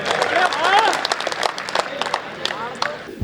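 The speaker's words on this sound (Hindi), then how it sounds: "और जोरदार तालियां जोनी बैरागी के लिए।" Applause at a Hindi poetry gathering (kavi sammelan) on stage, a burst of crowd clapping and cheering mixed with voices and a brief whistle-like tone, fading toward the end.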